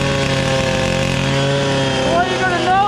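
A chainsaw engine runs steadily at high revs, driving an alternator through a V-belt on an old Ford, a loud continuous buzzing drone whose pitch wavers toward the end.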